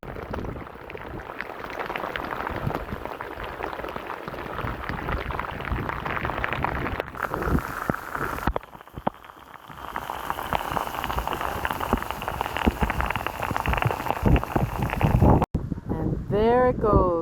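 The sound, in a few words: rainstorm on the Irish coast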